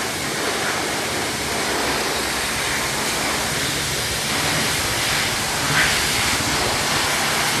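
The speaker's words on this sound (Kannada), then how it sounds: "ನನ್ನ ಗಾಡಿಗೆ ಇನ್ನ ನೀರು ಹೊಡಿತವ್ರೆ" Steady, loud broadband hiss of a pressure-washer jet spraying water onto a car at a car wash, continuous throughout with no talk.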